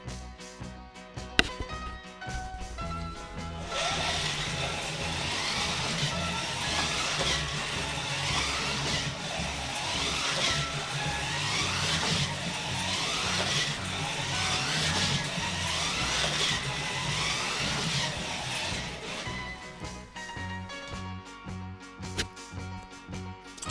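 A Scalextric George Polley 306 National hot rod slot car runs straight out of the box in the outside lane of an oval track, producing a steady, close motor whine with repeating passes and a few clicks, with no talking.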